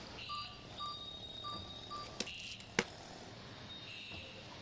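A short series of telephone dialing tones, evenly spaced beeps with a couple of sharp clicks, over a quiet hum; no talking.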